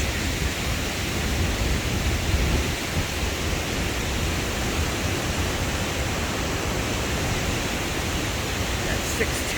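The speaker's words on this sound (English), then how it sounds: "There's the falls." Waterfall at the Iron Bridge in Yantic roars as a continuous, even broadband rush of falling water, steady and fairly loud throughout.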